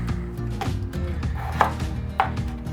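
A knife chops raw potatoes into chunks on a cutting board, a series of close, dull knocks in an uneven rhythm, with a couple of sharper blade strikes standing out.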